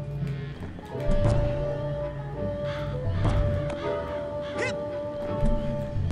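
Crows caw repeatedly in the video game Psychonauts, harsh calls arriving in irregular bursts over a steady game tone and a low rumbling background.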